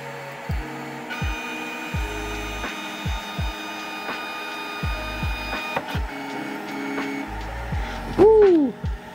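A Snapmaker 2.0 3D printer homes its carriage and heated bed, giving a run of short stepper-motor whirs and clunks in quick succession with a steady electrical whine underneath, ending in a louder rising-and-falling whirr up close.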